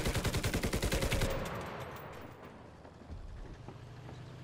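Rapid bursts of explosive cannon rounds in the video game Enlisted, a fast rhythmic volley for over a second that fades into rumbling echoes and a low battlefield din.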